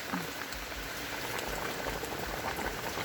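Bamboo shoot curry boils hard in a full pot, a steady close bubbling and popping that runs continuously, loud and alone without talk.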